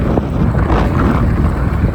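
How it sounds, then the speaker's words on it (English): Strong wind buffets the microphone while riding an Ecotric fat tire e-bike, a loud, continuous rumbling gust noise with no talk. "Wind's pretty strong."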